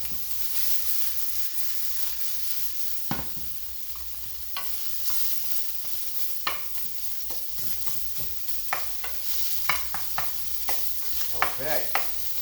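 Sausage fries in a hot pan for a mushroom and sausage ragu, a steady sizzle running throughout while a utensil scrapes and stirs in repeated sharp strokes, no voices.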